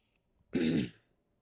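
One short, harsh cough or throat-clearing burst, close and fairly quiet, in an otherwise silent moment.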